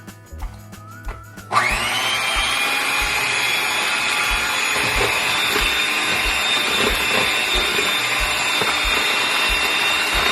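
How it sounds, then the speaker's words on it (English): A hand mixer beats batter for galaktoboureko, a Greek custard pie. A few soft clatters come first, then the motor kicks in with a loud, steady, close whirring that holds to the end. "we're gonna take our hand mixer"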